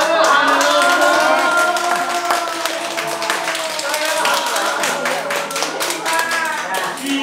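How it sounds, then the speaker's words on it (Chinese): A group of children claps for a newly introduced teacher, their applause steady and close for several seconds. Some voices and light chatter run beneath it. "大家给老师一个掌声"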